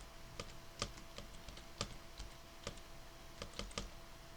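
Keys being typed on a computer keyboard in irregular clicking bursts, some quick double strokes, fairly close and crisp over a faint steady hum, no voices.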